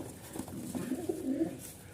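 Pigeons coo in a loft, a short run of low throaty calls close by over a faint background hum.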